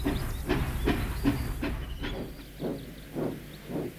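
A train engine pulls away from a standstill with a steady run of rhythmic, hissing steam-like chuffs that come close together and are evenly spaced throughout.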